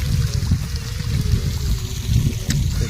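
Water flowing in a farm field channel, a steady close rushing trickle with low gurgling that continues without a break.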